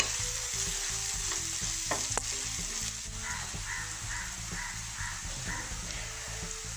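Half a teaspoon of turmeric powder stirred into frying masala for a chicken curry, with an even sizzle under repeated spoon scrapes and taps against the pan, and a faint tonal hum in the background.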